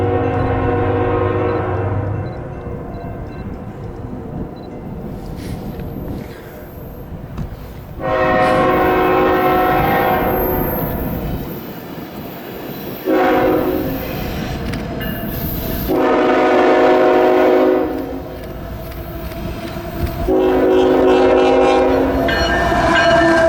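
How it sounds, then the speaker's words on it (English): CSX freight train I-158 rolls past on the River Line near Mine Dock Park and Haverstraw, with a loud rumble and clatter of cars and several long horn blasts spaced through the passage. "Next up was I-157's counterpart train,"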